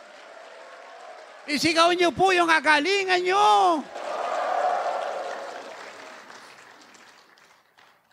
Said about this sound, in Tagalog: Lakasan niyo yung palakpak, magaling na po kayo.